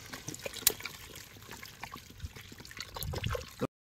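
Water poured into a large biryani pot during a Sunday outdoor cooking session with friends, a steady splashing trickle with a few louder gushes near the end before cutting off abruptly.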